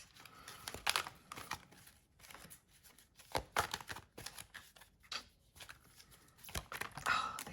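Tarot cards shuffled by hand up close, giving irregular bursts of papery rustling and crisp slaps spread across the stretch, with brief pauses between.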